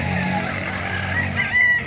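A rooster crows at a gamefowl market in Calauan, a loud close call rising over a low background murmur of the market.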